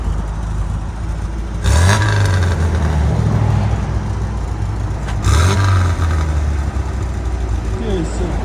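A 1971 MG Midget convertible with a 1275cc engine idles with a steady exhaust rumble, then is revved hard twice, each short throttle blip rising and falling back to idle.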